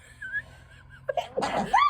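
After a couple of quiet breaths, a single loud, close sneeze bursts out near the end.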